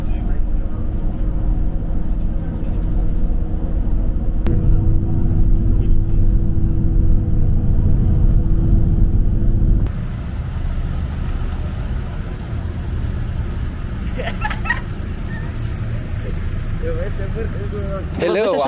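Bus engine droning while climbing a mountain road, a loud steady low rumble with a shift in tone partway through and passengers talking over it.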